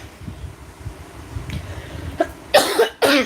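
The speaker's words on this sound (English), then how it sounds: "Coughing like that generally makes my eyes water." Two harsh coughs close to the mic near the end, following quieter rustling and low background noise.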